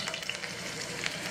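Steak frying in hot oil, a steady dense sizzle with crackling pops running throughout at close range, with no voices.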